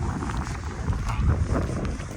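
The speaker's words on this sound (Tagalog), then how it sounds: "Mahangin nga lang, mga kaibigan." Steady wind gusts across an open muddy field in the countryside, a continuous low rumbling buffet close on the microphone, with no talk.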